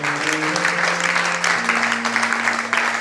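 A church congregation breaks into loud, sustained clapping that fills the room, with steady sustained musical tones underneath.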